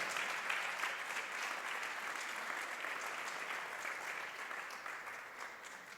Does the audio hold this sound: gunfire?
no